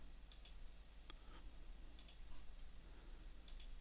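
Computer mouse clicking in a quiet room, several short sharp clicks in pairs spaced across a few seconds, close and alone.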